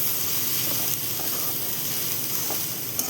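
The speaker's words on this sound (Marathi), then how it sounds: "आणि मस्त अशी गवार परतून घेणार आता" Cluster beans sautéing in a pan with a green masala and peanuts, a steady close sizzle and hiss with no talk over it, with a faint clink near the end.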